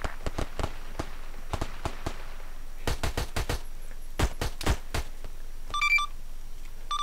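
Gunfire in the A3PL roleplay game: sharp cracking shots in single hits and quick bursts, fairly close, with short pauses between volleys and no talking.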